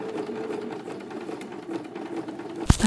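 A sewing machine stitching tree skirt fabric, a steady close whirring hum of rapid stitches running continuously, ending in a brief sharp clunk.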